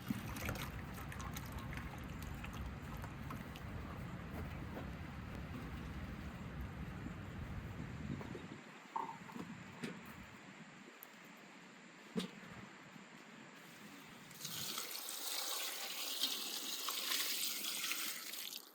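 Water runs and splashes steadily while sorted beans are rinsed in a village kitchen, a continuous gushing flow that drops to a quiet trickle with faint clinks, then rises again near the end.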